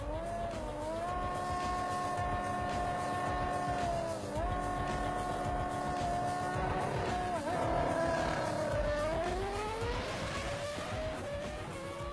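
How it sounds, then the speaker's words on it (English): A Formula 1 car revs and accelerates hard in a drag race against a superbike, its high engine whine climbing and dipping through gear changes, loud and sustained against a rushing background. "This time, Button gets a better start and manages to pull away at the halfway point to take the win in 9 seconds"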